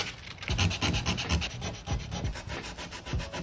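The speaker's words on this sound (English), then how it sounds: "Might start slowly with just with a little bit of sandpaper by hand first" By hand, 150 grit sandpaper rubs over rust on a Chevrolet Colorado or GMC Canyon driver door, making rhythmic, close, gritty back-and-forth scraping strokes that run steadily with no talk.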